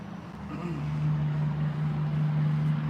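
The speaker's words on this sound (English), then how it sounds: "That's one of them little remote control cars and stuff." Small remote control car driving nearby outdoors, a thin steady motor whine humming continuously and growing slightly louder, with low background rumble and no talk.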